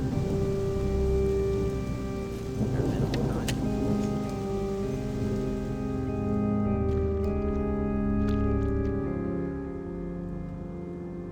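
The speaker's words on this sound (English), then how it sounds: "raining again." Steady rain hisses through the Gothic 2 game world, a continuous wash of falling water beneath sustained tones of background music, with no distinct thunderclap standing out.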